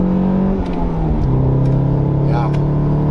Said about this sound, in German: Und auch wenn ich jetzt zweiter Gang Vollgas.